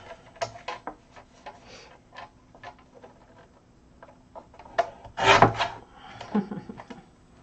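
Paper being trimmed for matting at a crafting desk, a series of close, sparse scratchy cuts and taps, with one louder rasping stroke partway through.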